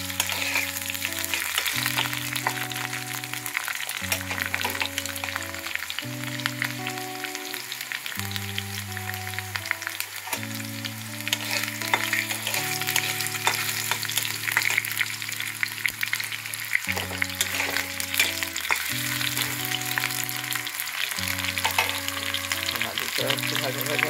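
Bay leaves and spices fry in hot oil in a pan, with a loud, steady crackling sizzle and occasional stirring, heard over background music.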